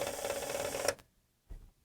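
A ground fault protection panel gives a harsh mechanical buzz for about a second as it refuses to reset, cutting off abruptly, followed by a brief low thump after a short silence.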